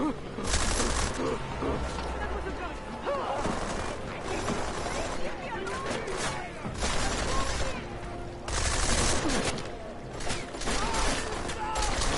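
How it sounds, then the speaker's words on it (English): Gunfire in a Deus Ex: Mankind Divided shootout, with bursts of rapid shots and mechanical clatter that come and go over about twelve seconds, fairly loud, with voices in between. "There's a shooting!"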